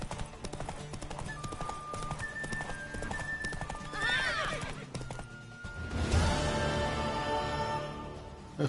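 A horse in The Witcher 3 gallops with rapid, rhythmic hoof clip-clops, then lets out a loud whinny midway and another near the end, over game music and bits of character dialogue.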